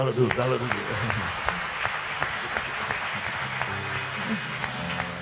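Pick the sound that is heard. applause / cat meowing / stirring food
applause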